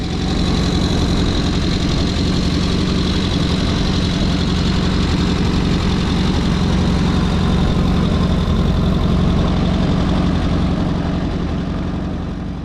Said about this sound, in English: treating our ears to a deep bass tone coming from the 4 exhaust pipes